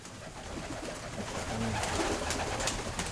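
Many pigeons coo together in a seller's loft, a dense, continuous rumbling chorus of overlapping calls close by, growing slightly fuller toward the end with no speech.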